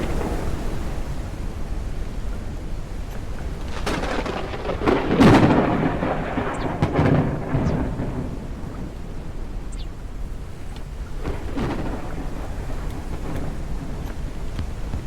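Thunder rolls through a steady rain in the airship survival game Forever Skies, with a heavy rumbling crack near the middle and quieter rumbles later, all over continuous rainfall.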